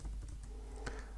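Close, soft clicking of keys on a computer keyboard as code is typed, an uneven patter of light taps over a low background hum.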